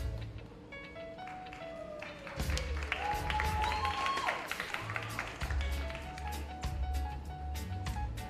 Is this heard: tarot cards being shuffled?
no